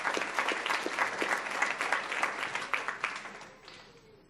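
A board meeting audience applauds a teacher being honored, a steady burst of dense clapping from many hands that tapers off toward the end.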